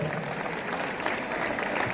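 Steady, dense applause from a crowd at a reunion gathering, clapping continuously at an even level for a couple of seconds.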